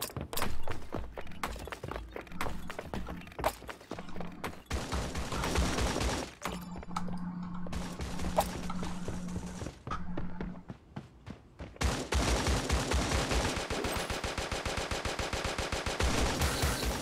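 Gunfire in the video game Creative Destruction: bursts of rapid automatic shots and scattered single shots, ending in a long, dense, continuous volley of fire.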